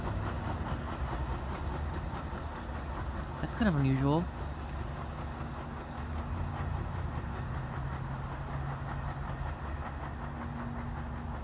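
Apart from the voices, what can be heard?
multilevel trains passing at Westfield, NJ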